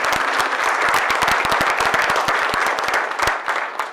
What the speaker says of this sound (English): So I think we should really applaud Rabble for that, getting the Silver Award in second place at